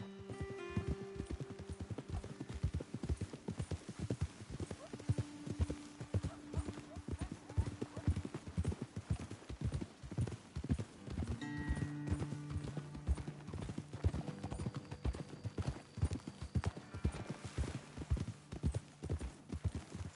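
Steady clip-clop of horse hooves at a walk in a video game, with occasional whinnies, set against a continuous musical backdrop and a few scattered voices.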